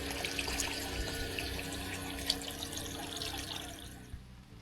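Water runs steadily from a tap on a hot day in a rural village, a continuous close hiss with faint splashing that thins out near the end, with no talking.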